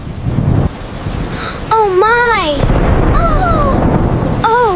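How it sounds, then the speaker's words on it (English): A rumble of thunder with steady rain on a surface during a storm; a woman exclaims briefly in surprise over the downpour, and another voice speaks in sing-song tones. "Oh, it's just the rain."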